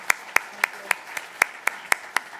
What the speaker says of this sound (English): Please join me in applauding her again.